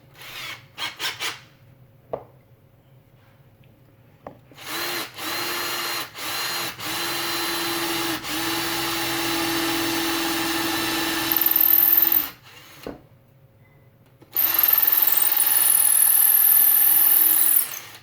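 Power drill boring a quarter-inch hole in a 1:4 scale Wolverine figure build, running in several sustained whirring bursts of a few seconds each, separated by short pauses and clicks, heard close and alone.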